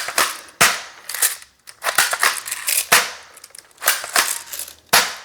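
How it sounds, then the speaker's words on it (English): A cheap airsoft shotgun firing repeatedly, with about six sharp close snapping shots at uneven intervals and mechanical clacking and rattling between them, no speech. "It's still shooting, but it's not chambering the damn BB"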